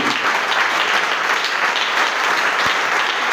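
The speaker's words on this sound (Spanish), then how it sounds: "Si es para el Señor, aplaude." A church congregation claps together in sustained, dense applause throughout, loud and steady with no pauses.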